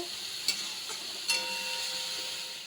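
Ginger, garlic, onion and chili paste frying in a wok, a soft steady sizzle with two quick scraping stirs of the spoon, close and quiet, no talk.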